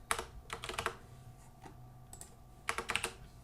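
Bursts of rapid computer keyboard keystrokes while writing C# class code, clustered in quick runs separated by short pauses, close and fairly quiet with no voices.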